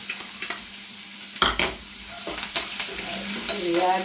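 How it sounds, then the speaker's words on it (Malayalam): Ginger garlic paste and green chilli fry in a pan for a mushroom roast, giving a loud, steady sizzle broken by sharp scraping and clacks as a spoon stirs them close up. "ഇനി നമുക്ക് അതിലോട് ഇഞ്ചിയും വെളുത്തുള്ളിയും പേസ്റ്റ് ഇടാവേ ഇഞ്ചി വെളുത്തുള്ളി പേസ്റ്റിൻ്റെ കൂടെ തന്നെ പച്ചമുളകും കൂടി ഇട്ടേക്കാം"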